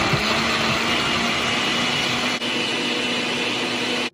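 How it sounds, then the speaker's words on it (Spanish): A kitchen blender grinds ingredients for a salsa for huevos ahogados, giving off a loud, steady motor whine and churning roar that runs continuously with one brief dip before cutting off at the end. "Bueno, pues vamos a moler."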